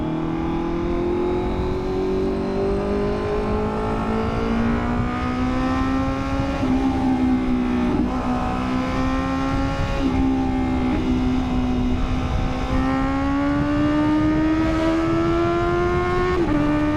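A Honda CB650R motorcycle on new tires rides steadily, its engine droning loud and close with rising and falling revs through gear changes, over constant wind and road roar for the whole stretch.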